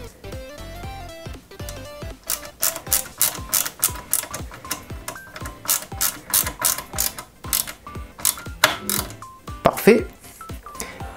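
Screws being driven into a 1/8-scale 2003 Subaru Impreza WRC full model kit, making a steady run of quick, close mechanical ratcheting clicks, with a voice speaking over the start.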